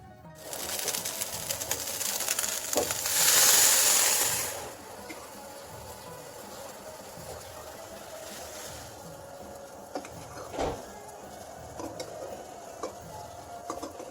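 Butter with chili flakes and black pepper sizzles in a pan on the stove, poured over rice and meat for beyran. A loud crackling burst comes first, then it settles into a steady hiss with occasional pops.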